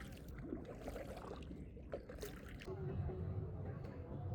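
A paddle strokes through the water from a small boat in Berlin with soft splashes and sloshing. The sound is fairly quiet, and voices talk over it.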